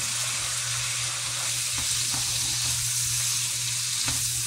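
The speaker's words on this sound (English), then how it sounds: "Now that both sides have been adequately seared, it's time to crumble it." Ground beef sears in a hot pan for homemade hamburger helper, giving off a loud, steady sizzle with a few faint clicks and shifts, and no talking.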